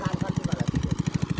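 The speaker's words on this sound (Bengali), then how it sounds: "কোনে পাইপটা কাটছি, পাইপটা সেট করা লাগছে আমার।" A pipe being cut on a fishing site, a loud rapid rhythmic chugging with evenly spaced pulses of machine cutting that runs continuously and sounds close by.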